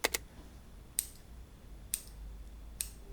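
Three crisp, sharp snips of eyebrow scissors spaced about a second apart, isolated and close, with near silence in between.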